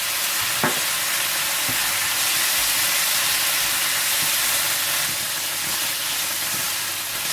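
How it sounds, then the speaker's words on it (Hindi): Chilli garlic sauce and soy sauce frying in a pan for a chicken mince pizza filling, a steady loud sizzle running throughout with a few soft stirring clinks. "और चिली गार्लिक सॉस और सोया सॉस डालकर अच्छी तरह से फ्राई कर दें।"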